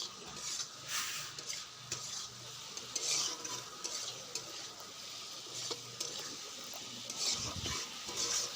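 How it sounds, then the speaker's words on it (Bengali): Potatoes are sautéed with spice paste in a pan, giving a quiet, close sizzle under repeated scraping and stirring strokes and occasional light clinks of a utensil against metal. "আলুগুলো দিয়ে মশলার সঙ্গে ভালো করে কষিয়ে নেব।"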